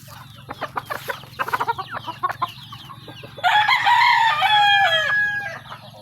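Chickens cluck in a scattered run of short calls, then a rooster lets out a loud, drawn-out crow close by.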